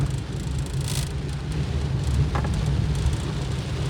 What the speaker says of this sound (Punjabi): ਮੀਂਹ ਦੇ ਵਿੱਚ ਤਾਂ ਪੰਗਾ ਹੀ ਆ ਦੇਖੋ ਇੱਥੇ ਜ਼ਿਆਦਾ ਪੈ ਰਿਹਾ